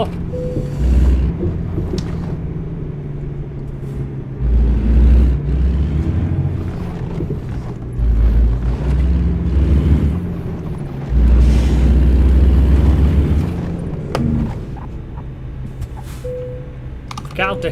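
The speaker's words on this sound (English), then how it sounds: "Look how different this sounds with a cat engine in it. It sounds weird." A truck in American Truck Simulator runs with a Caterpillar engine, a deep rumbling drone that swells and eases in repeated surges as the revs rise and fall, with someone talking over it.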